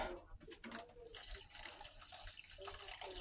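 Water pours and splashes into a pot of homemade roast beef stew with potatoes in a home kitchen, a close, continuous running-liquid sound that grows fuller partway through.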